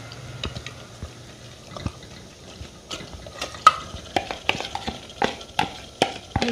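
Marinated chicken is stirred into browned onions for chicken korma, giving a soft frying sizzle with scattered scraping and clinking taps of a spoon against the pan, close and fairly quiet, with no talking.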